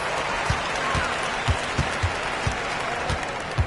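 Steady, dense applause from a basketball video game crowd, with rhythmic low thumps running beneath it and a commentator's voice faintly audible over the noise.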